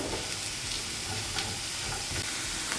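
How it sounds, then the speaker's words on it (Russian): Carrots and onions frying in a pan, a steady close sizzle with soft crackles and an occasional stir, no voices. "Жарить нужно недолго. Буквально 4-5 минут этого будет достаточно, чтобы и морковка помякла,"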